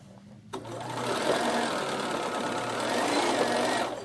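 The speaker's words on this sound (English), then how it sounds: "I just use the overlock stitch on my sewing machine. So I stitch this down." A Bernina sewing machine runs an overlock stitch on fabric, a fast even mechanical chatter starting abruptly after a moment of quiet and holding steady and close for several seconds before easing off.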